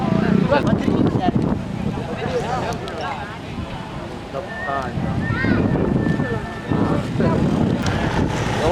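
Storm wind gusts across an outdoor kite-flying contest in Padang, roaring and buffeting the microphone while people talk loudly throughout.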